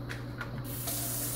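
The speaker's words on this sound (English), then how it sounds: "now here I am filling it up with some water to that little line" Tap water runs steadily into a small container in a home kitchen, a continuous close hiss and splash that grows brighter and fuller partway through as the flow strengthens.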